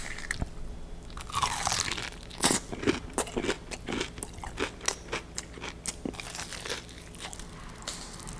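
Crunchy fried mac and cheese balls are chewed up close, with sharp crisp crunches in irregular bites followed by softer moist chewing, alone without talk.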